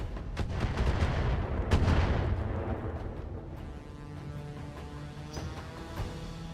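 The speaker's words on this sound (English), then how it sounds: "that upgraded laser sound and pulse sound and especially the particle cannon firing" Heavy booming blasts of a particle cannon in a BattleTech game fire in quick succession, followed by a rumbling decay and a few sharper cracks, like a powerful sci-fi weapon discharging.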